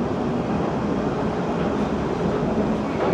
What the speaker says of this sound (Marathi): तर बघा आता आपण चाललो ट्रॅममध्ये. सिटीच्या मधनंच ट्रॅम चालली आहे.